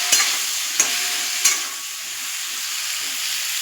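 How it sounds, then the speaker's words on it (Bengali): Okra frying with cumin seeds, salt and turmeric in a pan, a continuous close sizzle broken by three sharp stirring scrapes in the first half. "জিরে দিয়ে এটাকে আমি ভালো করে ভেজে নেব।"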